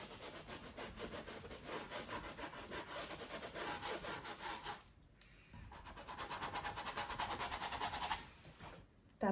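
A paintbrush scuffs and dabs paint onto canvas for beach waves, giving rapid rhythmic dry rubbing strokes, close and fairly quiet, with a brief pause in the middle.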